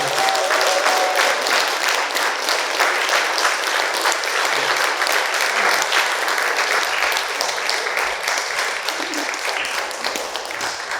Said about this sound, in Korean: 연주자분들께 다시 한 번 더 뜨거운 박수 부탁드리겠습니다.